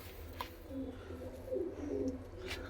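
Punjabi Malwai pigeons give low, murmuring coos close by, a soft continuous burble with a few faint chirps and no clear talk.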